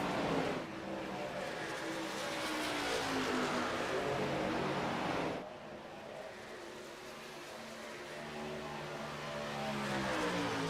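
Pickup race trucks battle side by side on an oval track in a truck series race, their loud engines droning and shifting in pitch as they pass, then rising again.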